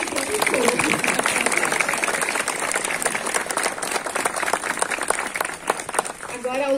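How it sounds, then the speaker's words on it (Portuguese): Applause for young people at a church youth night at a Catholic shrine: a crowd claps in a broad, sustained wash, loud and close, with faint voices mixed in and the clapping thinning near the end. "Então, uma salva de palmas a todos eles."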